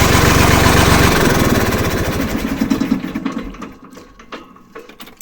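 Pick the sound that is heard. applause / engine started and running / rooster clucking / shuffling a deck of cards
engine started and running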